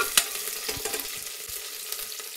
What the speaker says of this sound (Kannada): ಹೀಗೆ ಚೆನ್ನಾಗಿ ಎಣ್ಣೆಗೆ ಈರುಳ್ಳಿನ ಚೆನ್ನಾಗಿದೆ ಫ್ರೈ ಮಾಡ್ಕೋಬೇಕು ಈ ರೀತಿ